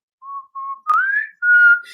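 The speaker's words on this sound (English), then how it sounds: "I have no clue why whistling indicates that you're going to join the party." Bright whistled notes from a show's intro jingle: two short even tones, then a rising slide and a longer held note, clear and close with no talk.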